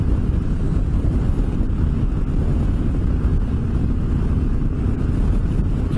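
Strong wind buffets the microphone on a desert trip in a constant, loud roar with no other sounds standing out.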